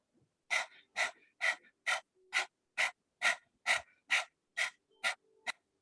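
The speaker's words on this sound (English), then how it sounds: "you're going to do breath of fire, which works like as though you're panting like a dog" Rapid rhythmic yoga breath-of-fire panting, done like a dog panting with the tongue out: about a dozen sharp, evenly spaced breathy huffs, close and clear with no talk over them.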